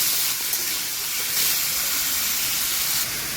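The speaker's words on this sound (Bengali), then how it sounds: "এবার আলুটা দিয়ে ভাজছি, টমেটো আর আলুটা দিয়ে সুন্দর করে ভেজে নেব নুন আর হলুদ দিয়ে।" Potato and tomato pieces fry in a pan with oil, salt and turmeric, producing a loud, steady hissing sizzle with brief surges, heard close and without speech.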